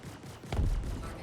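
Ship turret gunfire in the space game Star Citizen: one short, heavy burst of shots that booms out over a low background hum.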